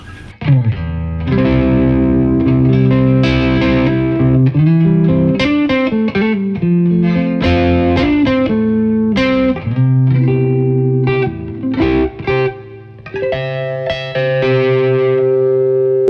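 Overdriven electric guitar through a Kemper Profiler Player amp profile, gain raised to about 3.5, plays a riff of chords and single notes with gritty distortion, steady and loud with brief pauses.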